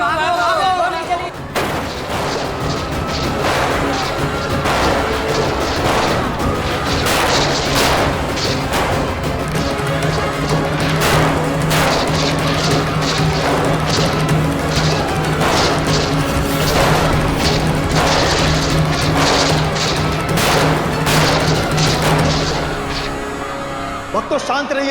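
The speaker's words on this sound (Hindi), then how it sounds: "गोली चली, भागो भागो, गोली चली, भागो भागो" A loud, chaotic burst of repeated gunshot-like cracks and bangs over more than twenty seconds, mixed with shouting voices and a dramatic music bed.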